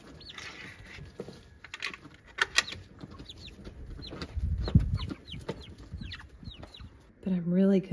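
Backyard chickens cluck and chatter close by in a yard, with repeated short clucks throughout, a brief thump midway and a louder, drawn-out squawk near the end.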